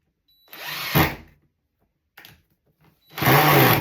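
A power drill drives screws overhead while mini blinds are installed: two longer whirring bursts of the motor with a short blip between, loud and close, separated by near silence.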